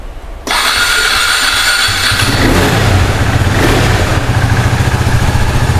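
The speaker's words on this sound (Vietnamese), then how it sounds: "Rồi nổ máy cho anh em nghe thử nha" A KTM RC motorcycle engine starts with a sudden burst, then idles loudly and steadily with a rough, throbbing mechanical rumble and light revs, alone up close.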